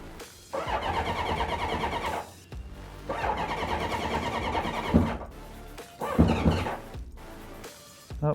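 The starter on a 1983 Honda CB1100F motorcycle cranks in three long bursts with pauses between them, a steady whirring churn as the engine tries but fails to catch, with a few louder knocks.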